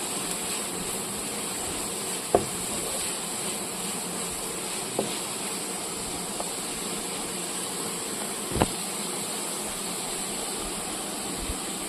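Onions fry in a pan with turmeric powder and are stirred now and then, giving a steady sizzling hiss broken by a few faint clicks of the spoon against the pan.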